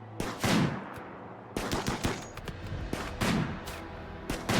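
Gunfire in the colony-building game RimWorld sounds as a series of sharp, close shots in irregular bursts, some landing singly and others in quick clusters, with clipped silences between volleys and no talking.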